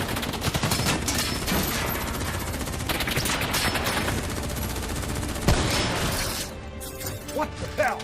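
Heavy automatic gunfire from a Call of Duty Black Ops 3 video game cutscene, loud, dense bursts and crashing impacts running almost continuously, thinning out into scattered shots and debris near the end, with shouted voices mixed in.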